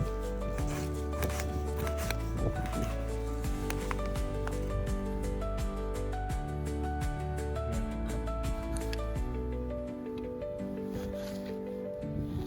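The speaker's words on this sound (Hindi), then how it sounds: "नए हेयर कटिंग स्टाइल में हम काट रहे हैं प्याज को।" Onions chopped outdoors at a nature campfire cooking session, a run of fast, even knife strikes on a board, close and steady, largely buried beneath loud continuous background music that drops away near the end.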